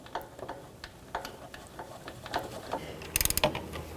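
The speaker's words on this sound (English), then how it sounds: "So now we can install the upper bolt again." A serpentine belt tensioner bolt on a 2006-2012 Toyota RAV4 is turned by hand, producing soft, irregular metallic ticks and clicks close by, with a brief cluster of sharper rattling clinks near the end.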